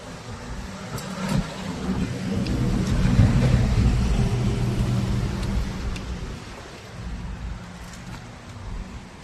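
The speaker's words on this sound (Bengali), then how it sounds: "মুষলধারে বৃষ্টি নেমে গেছে" A heavy monsoon downpour in North Bengal fills the air with a steady, dense hiss, and a low engine rumble from a passing vehicle swells in the middle and then fades.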